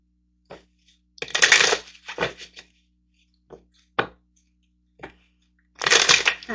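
Tarot cards are handled and shuffled in close, crisp bursts of riffling and snapping, separated by short quiet gaps and scattered single taps of cards.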